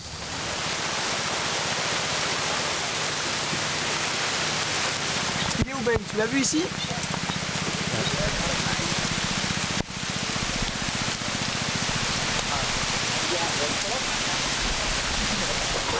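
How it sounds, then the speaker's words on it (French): Steady heavy rain pours down throughout, a dense hiss on surfaces close by, while people talk over it and a few knocks and rustles break through. "Merde, il pleut."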